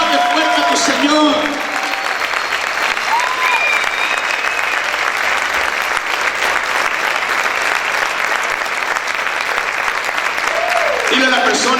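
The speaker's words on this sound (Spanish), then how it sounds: "Aplaude fuerte a tu Señor." A church congregation applauds loudly during a worship service, a dense, sustained roar of clapping with shouting voices mixed in, filling the room for the whole stretch.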